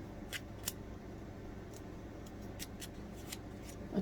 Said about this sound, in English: There's a couple of tails here. Just snip them off.